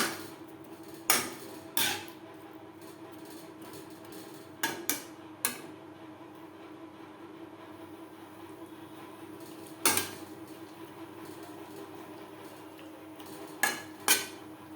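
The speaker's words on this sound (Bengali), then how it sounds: "মশলা ও দইয়ের সাথে পটল বেশ ভালো করে মিক্সড করে দেবো" Fried pointed gourd with spices and yogurt is stirred in a pan, a spoon striking and scraping the metal in sparse, sharp knocks, some doubled, over a faint low background hum, close and with no talking.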